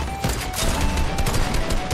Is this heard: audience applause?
no